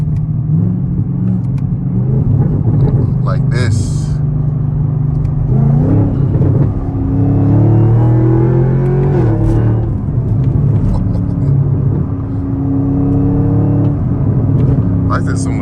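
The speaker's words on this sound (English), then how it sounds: "at least you're definitely gonna hear a lot of pops and bangs though" A V6 car revving on the street among street racers, deep engine rumble rising and falling through several revs with sharp crackling pops, heard close with a person talking over it.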